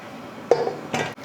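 A couple of sharp metallic clanks a moment apart as a pressure cooker lid is set down and locked into place over mutton curry, close by and alone.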